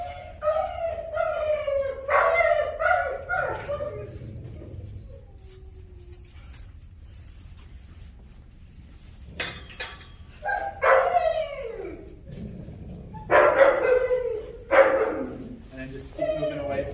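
A dog barks in several loud, close bursts, sharp yips spaced across the stretch with quieter gaps between, while people talk nearby.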